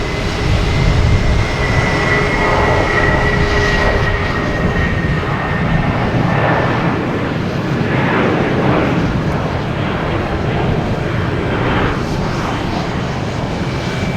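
An American Airlines Airbus A319 jet takes off at Boston Logan Airport, its engines giving a loud, steady roar that holds for the whole stretch with no talking.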